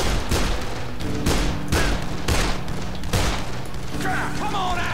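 Repeated loud gunshots ring out at regular intervals in a Dead Island match, each a sharp crack with a ringing tail over constant game background, and faint electronic tones near the end.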